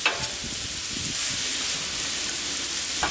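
Chicken browns on a flat griddle with a steady, even sizzle and crackle of frying, close and constant, with a few light stirring scrapes and no voices.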